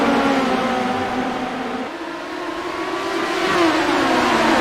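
A pack of race cars launches off the start at Volusia in iRacing, engines roaring together and pitching upward, dipping briefly before climbing again as the field accelerates close and loud.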